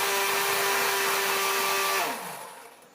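A mixer grinder dry-grinds cashews, poppy seeds and melon seeds with no water, a loud steady whirring hum for about two seconds before the motor winds down and fades.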